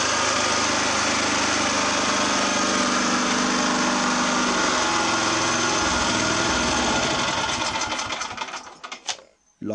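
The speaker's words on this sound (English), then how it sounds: "I like a quiet engine, and that's working real quiet now." Small engine running steadily and fairly quietly at high pitch, a continuous close buzz that carries on evenly before cutting out near the end, with brief rattling as it stops.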